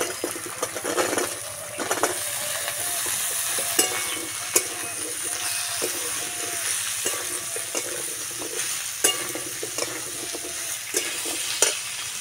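Chopped cucumber stirred and frying in a pan for a Bengali shukto, with steady sizzling and repeated scraping stir strokes that sound close and continuous throughout.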